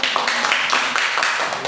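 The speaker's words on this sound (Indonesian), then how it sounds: "beri tepuk tangan untuk kelompok 1" A classroom of students clapping for the first group during a high school math lesson on sequences and series, steady overlapping applause throughout, fairly loud.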